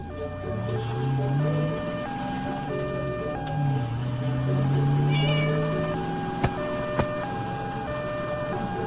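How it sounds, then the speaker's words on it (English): A cartoon cat meows in long, drawn-out cries, two or three rising and falling wails, over a stepping two-tone siren and music, with a couple of sharp clicks near the end. "My cat is climbing to the tree."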